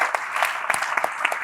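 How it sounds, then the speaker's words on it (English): Brief burst of audience clapping during a podcast-style talk with a film actress, with a handful of sharp, scattered claps standing out over a steady patter lasting just over a second. "Give a clap to you guys, to yourselves."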